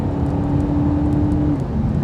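An Audi A5 Sportback accelerating hard along a straight road, heard from inside the cabin as a steady, loud engine drone with a brief rising tone, without pauses throughout.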